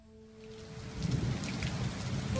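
Steady rain pours down during a storm, a dense hiss of drops that swells louder after the first second and holds, with no voices.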